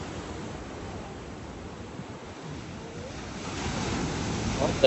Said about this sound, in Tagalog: Oh, sa lakas ng alon,